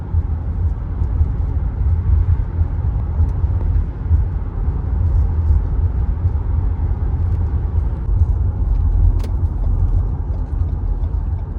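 A 2018 Lexus RX350 cruising on the road, with a steady low rumble of engine and tire noise from inside the cabin, constant and unbroken throughout with no talking.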